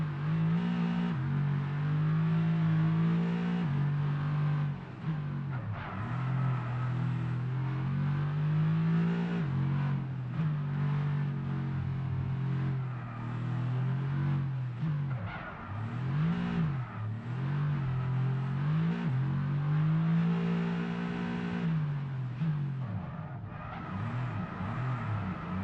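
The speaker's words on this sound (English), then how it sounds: "So I'll leave some AMG GT ASMR for you until I finish this lap" Steady, loud engine drone of a Mercedes-AMG GT in the F1 22 racing game, holding a sustained tone with rising and falling revs and brief gear-shift dips throughout, with no voices.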